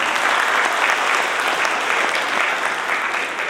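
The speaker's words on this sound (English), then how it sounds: "Give a round of applause, please." Sustained audience applause at an event in New York for the Prime Minister of Grenada, a dense, even roar of many hands clapping close by, continuous and fairly loud with no voices over it.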